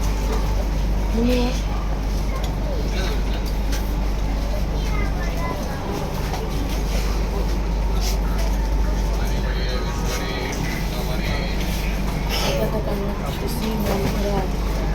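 Shatabdi Express train riding from Kolkata to Jamshedpur: a steady, loud cabin rumble with low drone, rattling and track noise carrying on throughout, with voices murmuring faintly under it.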